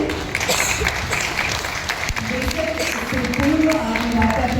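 Audience applause at a stage event, sustained broadband clapping from a crowd throughout, fairly loud, with some voices and tonal sounds mixed in toward the end.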